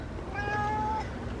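A single cat gives one clear, drawn-out meow indoors, close and fairly loud against a quiet low background hum.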